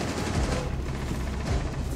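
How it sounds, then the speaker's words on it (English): Continuous gunfire in a shooter video game, dense and steady throughout with a couple of heavier bursts, sounding close and loud with no talking. "I was getting shot from that hole again"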